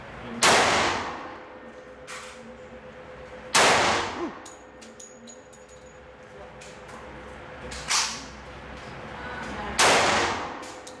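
Four loud, sharp handgun shots from a pistol fitted with a compensator, fired outdoors at a slow, uneven pace with a few seconds between each, with faint clinks of ejected brass between them.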